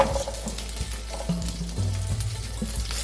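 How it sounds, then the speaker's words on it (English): Small onions tipped into a tablespoon of hot oil in a pan just used for frying fish, giving a continuous, close, fairly loud sizzle and crackle that holds steady throughout with no talking. "Add just 1 tablespoon of oil, and now it's hot. So we'll add the small onions"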